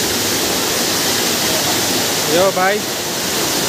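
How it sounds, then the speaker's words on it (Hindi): Rushing water from a waterfall inside a cave fills the space as a steady broadband roar throughout, with a voice calling out briefly near the end. "क्या वाटरफॉल है देखना।"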